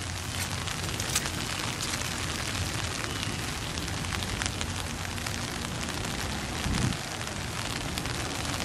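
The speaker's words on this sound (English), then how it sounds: "It's raining" Steady rain falling outdoors, a dense continuous hiss of drops on surfaces, close and uniform throughout with no voices.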